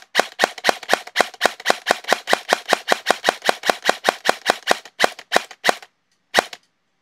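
Gel blaster with a T238 39K brushless motor firing semi-auto: a rapid run of about thirty sharp, loud, close shots in quick succession that slows near the end, with a final isolated shot after a short gap.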